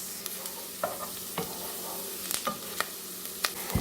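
Potatoes and onions cook in a pan, a steady moderate sizzle broken by repeated scraping clicks of a utensil stirring and turning them, with no voices over it.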